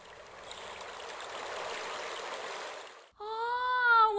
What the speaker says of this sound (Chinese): 小河流水的声音可真好听。